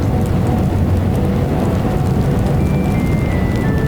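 Heavy rain falls at night in Tokyo as a dense, continuous broadband wash of downpour with a low rumble beneath, steady and loud throughout, with a faint whine near the end and no voices.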